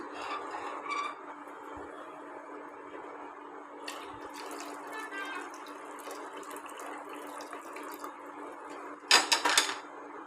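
Water drained from cooked horse gram pours and trickles steadily from a pot into a vessel, with a few clinks and a louder splashy clatter near the end.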